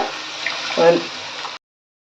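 Strained coriander water, from coriander paste, is poured into a pot for coriander rice, a short close steady gush of liquid lasting about a second and a half before cutting off, with a brief voice over it.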